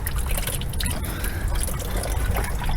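Radiator coolant from a 1997 Buick LeSabre drains steadily into a bucket, giving a continuous close trickling, splashing pour without break.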